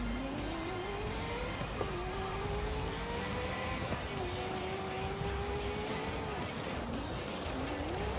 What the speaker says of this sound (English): 6T really sounds like an electric car, but with 7 gears